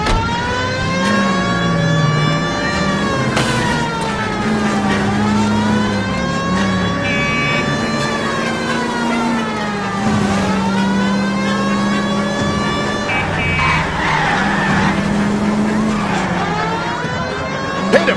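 A car driving fast in the LA Noire video game, a continuous loud engine whine rising and falling with revs, with tyre skidding and a siren-like wail layered in, close and dense throughout.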